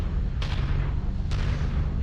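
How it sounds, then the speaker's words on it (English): Long Tom artillery in the modded video game Mechwarrior 5 Mercenaries, two heavy booming blasts about a second apart over a loud low rumble. "So the Long Tom Artillery is just a ridiculous, slightly overpowered artillery weapon."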